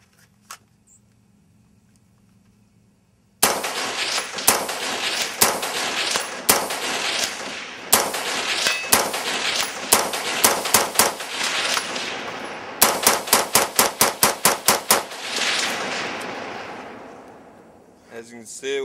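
Rifle fired by a shooter using a Mission First Tactical BMS stock outdoors: a long string of sharp, loud reports, first irregular, then a fast even series of shots, after a quiet lead-in.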